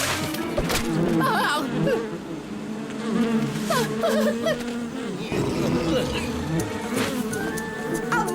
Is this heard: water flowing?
no